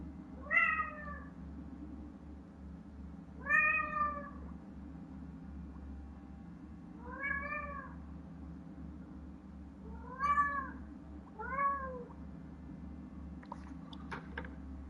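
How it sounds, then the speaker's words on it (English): A cat meows five times at spaced intervals, each call clear and fairly close over a steady low hum of room and game background noise. "I know y'all heard that cat tripping"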